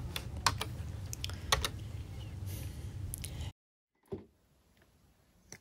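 Rapid keypresses on a Mac keyboard while a password is entered, a steady run of close, crisp taps for about three and a half seconds, then a pause and one last firm key tap.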